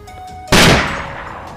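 A single sharp sniper rifle shot in a video game cracks out loud and close, then decays into a short fading tail over low background game ambience.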